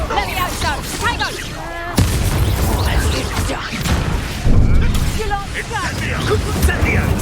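Confringo blasting spells exploding during Hogwarts Legacy combat, several heavy booms and crashes in quick succession under busy battle effects, loud and close, with characters' voices shouting over the blasts.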